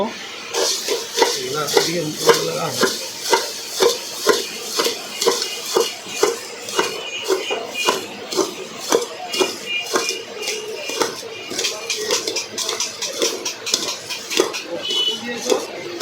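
Jhalmuri puffed rice being tossed and mixed with kasundi sauce and mustard oil, a steady run of rapid rustling and clattering strokes of spoon against bowl, close and fairly loud.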